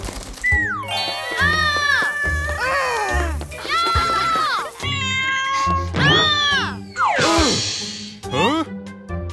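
A cartoon cat meows repeatedly in high, sliding, expressive calls, several distinct meows and whines one after another, loud and close with no talk.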